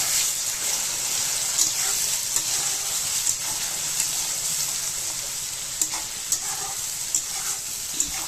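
Raw fish curry with salt, turmeric and chilli paste sizzles steadily in a pan while a spatula stirs it, soft scrapes and taps breaking through the constant frying hiss.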